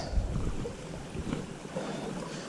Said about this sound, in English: this is a smaller stream, right, that's feeding into the main river